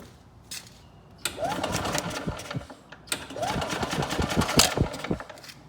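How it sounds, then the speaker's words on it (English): An old golf cart engine being cranked, two bursts of rapid mechanical whirring and chattering, each lasting a couple of seconds, close and moderately loud. "I'm gonna crank it just a little, and it should blow the rest of that out of there."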